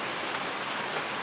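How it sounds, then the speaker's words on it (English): Steady rain falling on a roof, an even, dense hiss of drops that holds without a break or any voices. "I'm just out here enjoying this rain"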